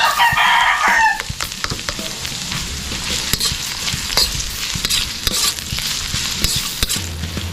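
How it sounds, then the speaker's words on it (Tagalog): Ginger, garlic and onion sautéing together in a pan for sinigang, a steady loud sizzle with stirring scrapes and clinks throughout, no talk. "Start na tayong manggisa para lalo siyang mas malasa"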